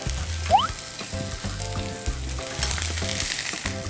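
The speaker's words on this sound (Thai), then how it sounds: "เราย่างกุ้งนะครับ" Shrimp sizzle and fry in a hot pan with steady crackling and hissing, broken by a few clanks of a utensil stirring against the pan, close and with no talk.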